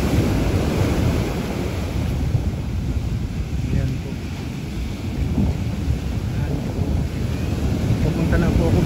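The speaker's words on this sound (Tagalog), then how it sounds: "parang umuusok siya sa lakas ng alon." Strong ocean waves crash on a northern surfing shore, a loud continuous roar of surf with heavy wind buffeting the microphone throughout.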